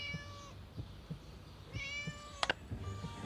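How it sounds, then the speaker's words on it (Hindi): A cat meows in the video game Scary Teacher 3D, two drawn-out wavering cries followed by a sharp short yowl, over quiet game ambience with soft rhythmic thumps. "Shut up, you silly cat."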